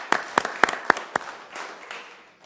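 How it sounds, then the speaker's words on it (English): A city council meeting in Sioux Falls gives a quick round of applause: several sharp, distinct claps from a small group, then a softer fading patter of hands that trails off within a couple of seconds. "Council, just a quick round of applause for this."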